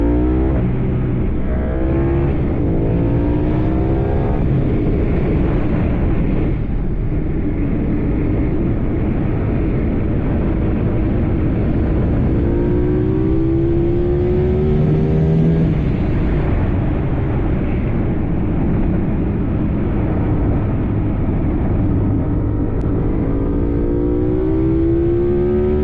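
A Yamaha R7 motorcycle with a flashed ECU and modified intake revs loudly and close, its engine note rising and falling through repeated throttle blips over a steady rumbling idle.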